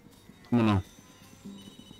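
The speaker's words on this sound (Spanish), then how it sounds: "Coño, el teléfono." An in-game telephone rings in the horror video game Blair Witch, giving one loud, bright trilling ring burst of about a third of a second, then a fainter tone later amid quiet background.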